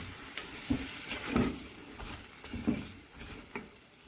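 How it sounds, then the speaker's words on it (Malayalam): Guava pickle mixture with salt being stirred in a cooking pot, a few soft scraping strokes spaced about a second apart over a quiet low sizzle. "ആവശ്യത്തിന് ഉപ്പും കൂടി ചേർത്ത് നല്ലതുപോലെ ഒന്ന് മിക്സ് ചെയ്ത് കൊടുക്കാം."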